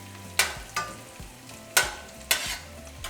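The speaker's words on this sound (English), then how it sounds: "we're going to add 1 garlic clove, and I just mashed it" A mashed garlic clove fries in a pan with beans cooking for refried beans: four sharp, bright stirring scrapes spaced unevenly over a soft sizzle, close and fairly loud, with no voices.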